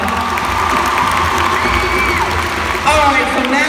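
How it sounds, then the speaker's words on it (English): A lively crowd at a family charity event claps and cheers, loud and continuous, with children's shouts and whoops rising over the clapping and voices in the mix. "Then clap it up for her."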